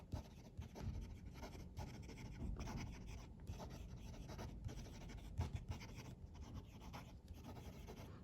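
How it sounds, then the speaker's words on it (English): A Wordsworth & Black Primori fountain pen nib scratching quickly across paper in fast handwriting, a continuous soft rasping with brief pauses between strokes, close and quiet with no talking. "Fast writing."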